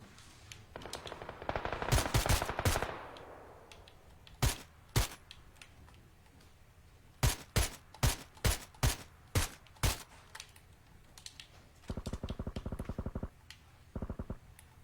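Gunfire in a video game shootout: a sustained burst of automatic fire, then a rapid series of loud single shots, ending with two short rattling bursts, all close and sharp.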